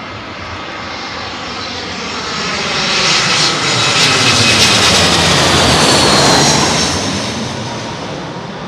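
Aircraft arriving on runway 27L at London Heathrow during thunderstorms: a loud jet roar swells as the plane nears, holds at its peak, then eases off as it passes, with no talk.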